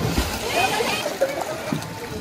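Splashing into a 2.2-metre-deep pool at the foot of a slide at the Acquamania water park in Guarapari: churning, sloshing water with brief splatters, with a voice talking over it.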